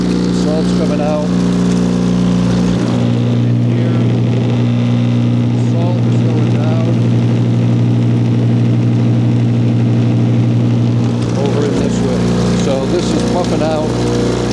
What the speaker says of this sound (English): This is starting your spinner, and here's the spinner. It's putting out salt.